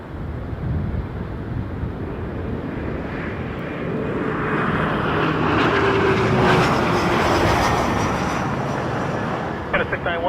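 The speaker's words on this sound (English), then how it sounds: "RJ touching down, wind 160 at 5 knots, clear line 106 right." Regional jet touching down on runway 6R at Toronto Pearson, a broad jet roar that swells and peaks midway before easing, with a voice talking over it.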